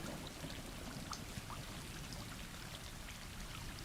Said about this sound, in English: I like the rain sounds.